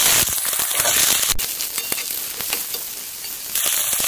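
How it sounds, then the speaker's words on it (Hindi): Chopped vegetables dropped into a pan of fried onions burst into loud, dense sizzling and crackling, with scattered sharp pops and a bright steady hiss throughout, close and with no talk. "प्याज फ्राई हो चुका है, अब हम इसमें सब्जी डाल देंगे।"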